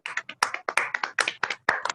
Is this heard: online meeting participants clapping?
yes